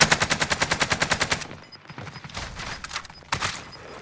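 Rapid automatic gunfire rattles in a fast, even burst during a video game firefight, then breaks into scattered, quieter shots and clatter.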